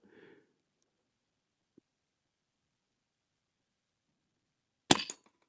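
A Brocock Ranger XR .22 air rifle fires at a Gamo knock-down target: one sharp, close crack with a short rattling tail, in an otherwise quiet outdoor setting.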